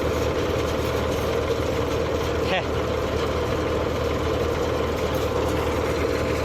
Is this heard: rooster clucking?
no